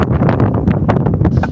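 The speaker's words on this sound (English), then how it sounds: "It's getting pretty windy out here." Gusty wind buffets the microphone outdoors on a sunny farm, a dense, close roar of rumbling and rustling with no voices.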